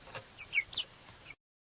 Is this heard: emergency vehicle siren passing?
no